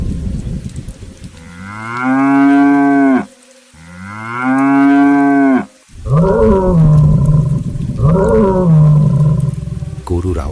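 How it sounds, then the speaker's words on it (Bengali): Cartoon cows lost in a heavy storm moo loudly, two long drawn-out calls followed by shorter, wavering bellows, close and clear with no talking over them. "গরুর আওয়াজ শোনা যাচ্ছে"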